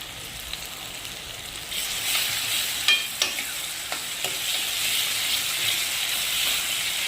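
Two or three dried red chillies sizzling in hot oil for a dal tadka, a steady close hiss with a few sharp crackles and pops partway through.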